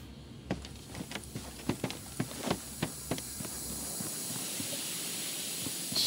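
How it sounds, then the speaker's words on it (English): In the video game Gylt, steam jets hiss steadily while sharp footsteps tap in an even rhythm, then a broad high hiss rises and swells near the end. "Steam jets can be frozen."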